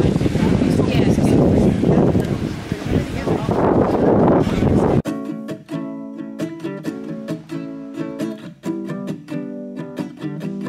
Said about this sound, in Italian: il tempo fa veramente schifo. Nel senso che c'è un botto di vento.